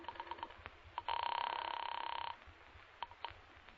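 Old-fashioned telephone bell rings in a radio detective drama, a sustained metallic ring of about a second and a half standing out clearly between softer rustling and small bumps, with no voices over it.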